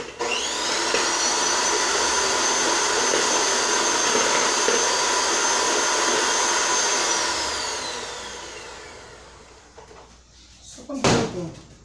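Electric mixer briefly beating cake filling for a Soy Luna themed cake, a steady loud whirring drone that runs for several seconds, then winds down, followed by a short clatter.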